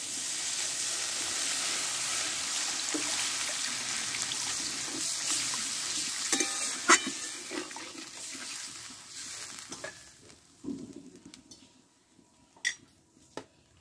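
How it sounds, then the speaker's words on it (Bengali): Water splashes into spice paste frying in oil in a pan for a Bengali potol dish, giving a loud, steady hiss and sizzle that fades after about ten seconds into scattered clinks and drips. "এবার অল্প একটু জল দেব"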